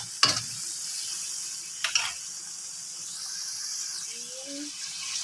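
Steady sizzle of string beans frying in a pan for adobong sitaw, seasoned with pepper, with a couple of sharp clatters from stirring over the continuous hiss.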